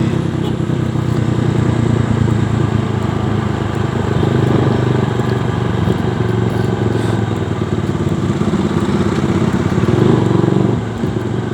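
Motorcycle engine running steadily during a ride, a loud continuous drone with wind and road rumble throughout and no talk.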